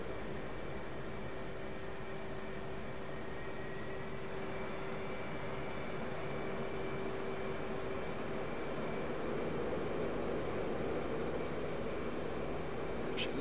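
In the DCS flight simulator, an F/A-18C Hornet's jet engine hums in a steady drone with faint tonal whines as it powers back, holding fairly constant and then swelling slightly near the end.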